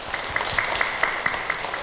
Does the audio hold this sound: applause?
yes